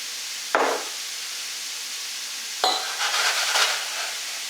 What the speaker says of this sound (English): I'm going to throw in the turnip. I like to get it all in the pan.